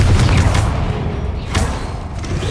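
Confringo blasting spell explosion in Hogwarts Legacy, a loud booming burst followed by a second thudding impact about a second later over dense game ambience.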